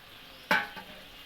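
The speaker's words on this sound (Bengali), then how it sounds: "তেল আমার গরম হয়ে গেছে, এবার মাছটা আমি দিয়ে দেব।" Lote fish dropped into hot oil gives one sudden loud sizzling splash that fades within about half a second, with a smaller crackle just after, close-up and on its own.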